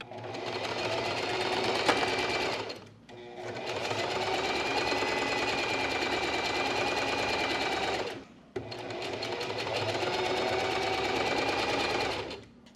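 A sewing machine running a straight stitch through fabric, a loud, close, steady whirring hum in three long runs separated by brief pauses.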